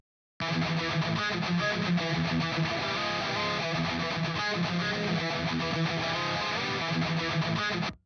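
A heavily distorted electric guitar through the Aurora DSP Laboga Mr. Hector amp plugin's Beast tone plays a steady, dense riff alone, loud and saturated with a bright, tight gain tone.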